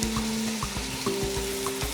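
Onions, garlic and ginger softening in a pan give off a steady, close sizzle with soft stirring scrapes and a faint tonal hum, with no talking.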